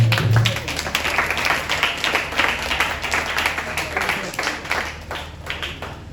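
Dense, steady applause from a church congregation acclaiming the king, with many hands clapping rapidly and evenly for several seconds, loud and sustained with a faint murmur beneath.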